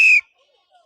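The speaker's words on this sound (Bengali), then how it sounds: "আমি যখন বাঁশি মারবো তখন তুমি বলটা মারবে" One short, shrill whistle blast sounds close and loud to signal a child's kick in a football food game, then cuts off into near silence.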